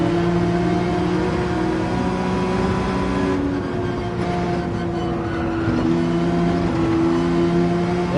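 A car engine in Gran Turismo 7 on the Dragon Trail circuit drones steadily under throttle, with a sustained tonal whine that dips briefly and then climbs again, loud and continuous.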